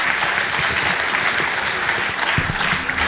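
An audience claps steadily after a masterclass session, dense applause filling the room for a few seconds.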